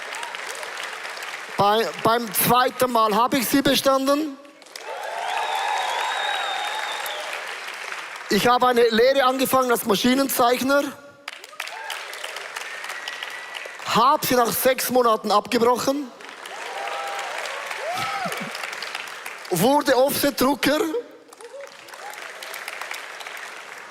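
A hall audience bursts into loud applause several times, each wave of clapping alternating with someone speaking on stage.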